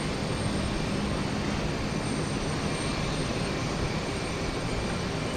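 A United Boeing 757-200 jet rolls toward takeoff at Houston Intercontinental, giving a steady, loud, broadband engine roar that holds constant throughout with no talking.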